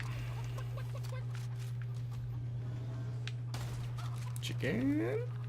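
Chicken clucking in the shooter Immortal Redneck, a short burst of fowl calls near the end over a steady low game hum, with a voice talking.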